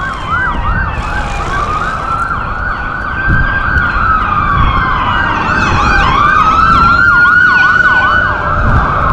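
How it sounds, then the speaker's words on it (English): Loud volunteer fire department sirens wail and yelp close by, several overlapping tones sweeping up and down over rumbling traffic. "Please ignore the sirens"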